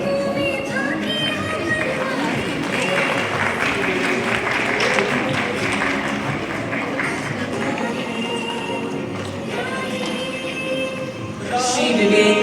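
Audience applause at a formal awards event, a dense, continuous wash of many hands clapping that holds steady throughout and rises slightly near the end.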